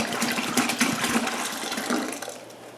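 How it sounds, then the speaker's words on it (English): Cold water gushes from a tap into a container for turkey brine, a rushing, bubbling pour that gradually eases off toward the end, close up with no talking. "I'm going to fill this back up with cold water and add it in again."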